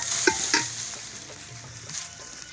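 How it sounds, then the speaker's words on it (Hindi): Chicken pieces fry and sizzle in a spice masala in a pan in a village kitchen, with a quiet continuous crackle and a few scraping stirs and clanks of a utensil against the pot. "ये चिकन ऐड हो रहा है जी मसाले में। अभी इसको भुनी लगेगी"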